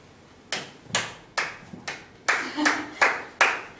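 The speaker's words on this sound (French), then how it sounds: "Frappe de main l'un contre l'autre" Several separate hand claps, about eight sharp slaps spaced roughly half a second apart, ringing close and clear with nothing else in between.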